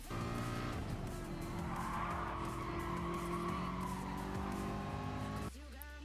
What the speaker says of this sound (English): We'll only be on the brakes for a short period of time and then turn in early and then accelerate as early as possible.